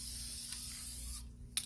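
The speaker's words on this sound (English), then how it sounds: "and we're going to spray." A Krylon Workable Fixative spray can releases a steady close hiss for about a second, then stops, followed by a short final burst.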